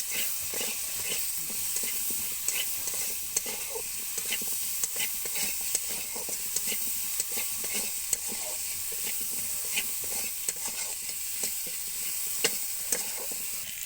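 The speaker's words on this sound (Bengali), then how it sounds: "দিয়ে একসাথে একটু ভাজা মাথা করে নিতে হবে।" Mango pieces with turmeric frying in a pan after a five-spice tempering, a constant hissing sizzle with frequent quick scraping strokes of a spatula throughout.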